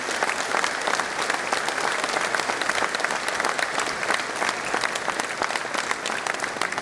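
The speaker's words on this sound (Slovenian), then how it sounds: "Mislim, da si zaslužite še en srčen aplavz od vseh nas zbranih." A hall full of people applauds a male choir and zither player at a Slovenian beekeepers' day celebration, with dense, steady clapping that holds at an even level for the whole stretch.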